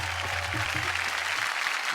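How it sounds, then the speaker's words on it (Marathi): Applause from a television show audience, a dense wash of clapping that holds steady at moderate loudness for about two seconds, with faint low murmurs beneath it early on. "एकदा जोरदार टाळ्या झाल्या पाहिजे"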